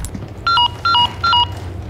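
Leon dials his phone in Resident Evil 4 Remake: three crisp, evenly spaced keypad tones beep clearly over a low ambient rumble.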